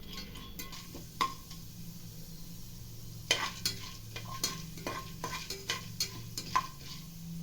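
Chana dal sizzles softly in oil in a pan while a spoon stirs and scrapes, with scattered clicks and taps against the metal.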